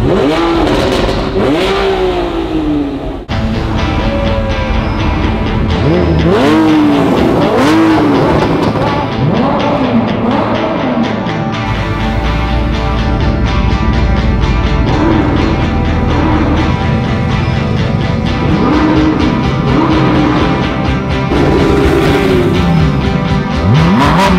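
A line of cars, a Ferrari among them, pulls away one after another from the Edinburgh start of a 1000-mile road rally. Loud engines rev and accelerate in overlapping waves, with repeated rising sweeps, close and continuous with no talk.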